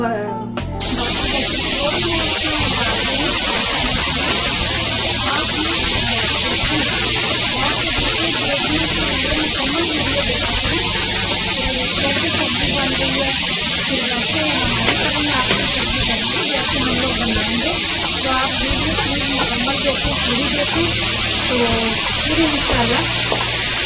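Carrots frying in a pan, a loud steady hiss and sizzle running unbroken throughout, close and dense.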